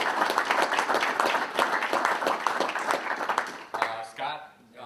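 An audience at a soil health workshop breakout session claps in a dense, sustained round of applause that fades out, followed by a voice starting to speak.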